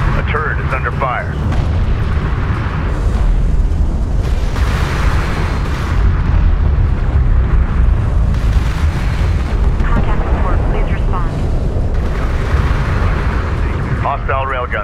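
Railgun fire and explosions roar through a desert battle in Homeworld: Deserts of Kharak, a dense, loud rumble of blasts and booms that never lets up, with radio voices talking over it.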